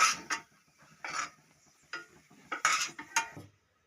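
Raisins are stirred in ghee in a pan, with intermittent scraping and clinks of a spoon against metal between quiet gaps and a faint sizzle underneath.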